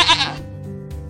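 A goat bleats once, close and loud, a short quavering call that trails off into a quieter tail.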